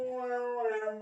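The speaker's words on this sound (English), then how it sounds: "Can you can you hear the dog in the background?" A dog howls in the background, one sustained wavering tonal cry lasting about a second, heard alone and fairly faint.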